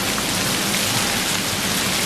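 Heavy rain pours down in a dense, unbroken hiss, loud and close, with no pauses or voices.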